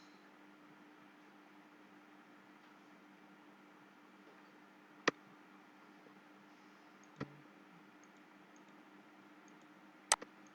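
Computer mouse clicks while building a basic HTML web page, three sharp isolated clicks a few seconds apart over a faint steady hum, no talking.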